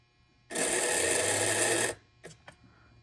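A model railroad locomotive on a test bench runs noisily, giving a loud, steady mechanical whir for about a second and a half that stops abruptly, followed by two brief faint clicks.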